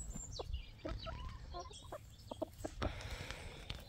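Hens cluck and call close by in a countryside yard, a run of short, irregular clucks over low background noise.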